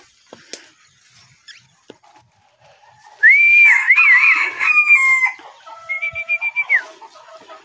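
Chickens at a backyard coop give loud, wavering crow-like calls, followed by a run of shorter rhythmic calls, sounding close and clear against quiet surroundings.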